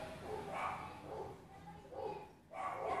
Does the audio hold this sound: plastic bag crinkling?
no